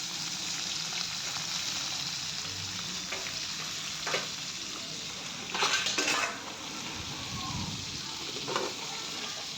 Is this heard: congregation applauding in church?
no